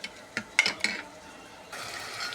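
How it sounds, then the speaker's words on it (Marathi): Metal spoon stirring and pressing urad dal against a pan with ginger paste in hot oil, a few sharp clinks and scrapes early on, then a steady soft frying hiss. "मी वाटण केलेले जरा चमचने मी डाळ घोटून घेते"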